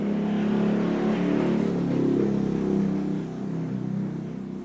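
A car with a loud aftermarket open exhaust revs and passes by, a rough mid-pitched engine drone swelling and easing across several seconds, fairly close and heard alone without talk.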